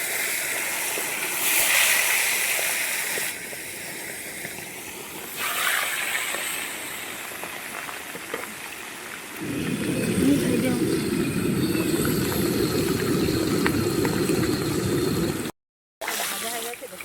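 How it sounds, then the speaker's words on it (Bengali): Fish heads, from a 5 kg fish, frying in hot oil in a home kitchen: a steady loud sizzle and hiss that begins partway through and holds until a brief cut, with quieter kitchen noise before. "লাল লাল করে মাথাগুলো ভেজে নিচ্ছি।"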